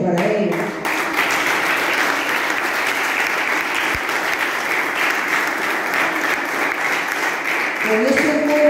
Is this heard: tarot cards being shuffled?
no